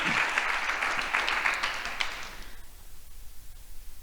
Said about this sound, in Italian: eccola qui, perfetto, un applauso, il Torino Show Film Market